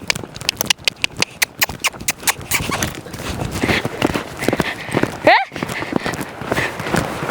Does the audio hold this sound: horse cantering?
yes